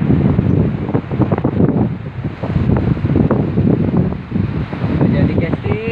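Strong evening wind sweeps across a fishing spot, buffeting the microphone with a steady, close, gusting roar and low rumble that lasts throughout.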